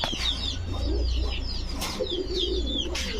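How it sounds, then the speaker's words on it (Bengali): Pigeons coo and flutter close by in a cage or loft; the birds are silver Musaldam racing pigeons, with soft repeated cooing, rustling and occasional louder calls over a steady low hum, and no talk. "সিলভার মুসালদাম মাদি ফুল ফ্রেশ রানিং মাদি কবুতর"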